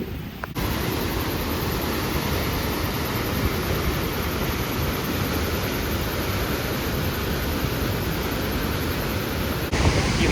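Loud, powerful rushing water near Taupo, New Zealand, a dense and constant roar of churning torrent close by, steady throughout with no voices.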